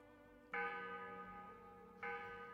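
A bell-tower bell in the video game Black Desert Online strikes twice, each bright ringing tone swelling suddenly and then holding a long, sustained resonant hum before the second strike, heard clearly with no speech.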